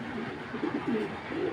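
Racing pigeons, long-distance racers kept in a loft, coo softly in low rolling, repeated phrases nearby, with no talk over them.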